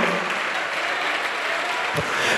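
Church congregation applauding, a dense sustained clapping from many hands filling the room, steady and fairly loud throughout, without voices.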